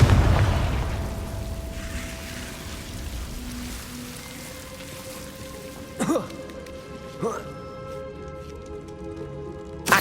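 Confringo spell blasts in Hogwarts Legacy, two short sharp bursts in quick succession partway through, set against a steady patter of rain-like ambience with no talking.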